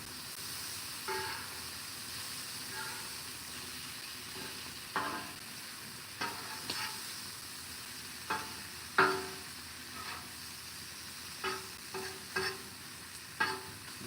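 Fish frying in oil on a Blackstone griddle, a steady close sizzle broken by occasional scraping and stirring clicks and brief spatters, with no talking.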